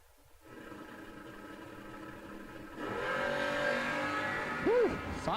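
Drag race cars launch and run side by side at a drag strip, engine roar building steadily and growing louder partway through, with a brief rising whine near the end.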